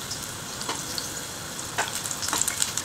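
Boiled plantain slices fry in hot oil over a low flame, giving a steady close crackling sizzle with a few brief louder bursts as pieces are turned.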